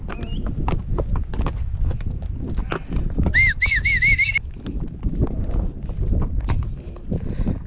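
Horse hooves clip-clopping steadily at a walk on a ranch path while cattle are led to water, close and continuous, with a brief high whistle-like tone in the middle.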